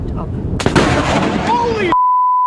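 Lightning strike hitting a backyard during a high-wind storm, a sudden loud, close crack and rumbling blast, then a sharp electronic beep tone cuts in just after.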